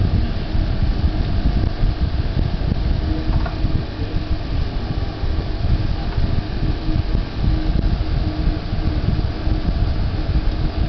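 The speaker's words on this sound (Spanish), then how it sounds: "acá tengo mi sistema de refrigeración porque hace muchísimo calor." A cooling fan beside a homemade mini CNC machine runs with a steady, loud broadband whoosh that holds constant throughout, with no talking.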